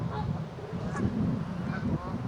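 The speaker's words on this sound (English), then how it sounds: "Oh, finally, a goose is eating from the bowl." Geese at a bird feeding spot give soft, low honks and grunts while one eats from a bowl, heard close over a steady outdoor background hum.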